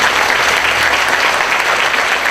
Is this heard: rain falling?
no